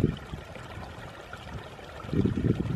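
Snowmelt mountain stream in the White Mountains flowing steadily nearby, a continuous broadband rush that swells louder toward the end, with no talk over it.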